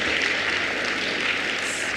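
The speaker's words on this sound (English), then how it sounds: "give them a round of applause" A crowd at a high school Class of 2025 transition service applauds its teachers: a steady, dense wash of many hands clapping at once, with no gaps and no voices over it.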